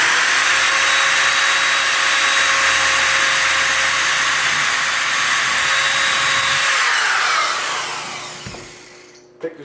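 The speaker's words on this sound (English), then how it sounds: "Now I'm gonna just drill on through." A power drill whines steadily as it bores through a kitchen cabinet door for a knob, running loud and close for several seconds before winding down and stopping, followed by a few faint knocks.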